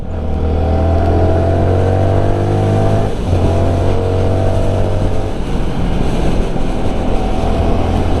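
Stock exhaust of a CF Moto NK 300 naked motorcycle under way, a steady loud engine drone with a brief dip in pitch as the rider shifts, mixed with constant wind rush and no talking.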